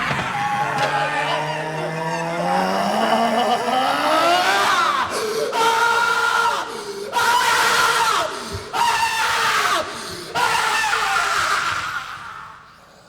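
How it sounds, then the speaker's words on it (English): Howls and shrieks serve as an audio drama effect, loud rising and wavering wails that swell together and then break into choppy, stuttering bursts before fading. "the howls and shrieks were deafening"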